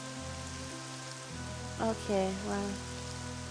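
Rain falls steadily in a video game, a constant soft hiss under a low hum, while a person speaks briefly in the middle.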